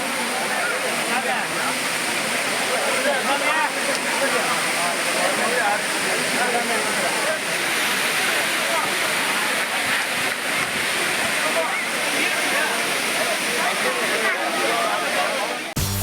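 Courtallam waterfalls during the Pongal holiday rush, with many tourists bathing beneath them: a dense, continuous roar of falling water fills the whole stretch at steady loudness, with faint crowd murmur blended into the rushing noise.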